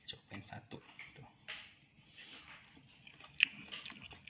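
Crunchy cooked vegetables from a chicken capcay soup being bitten and chewed up close, a series of faint, irregular crisp crunches and mouth clicks.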